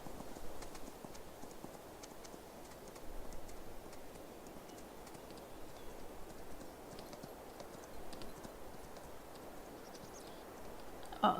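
Steady clip-clopping horse hooves trot on without pause in the video game Farming Simulator 22, fairly quiet, over a soft rumbling background with no talking.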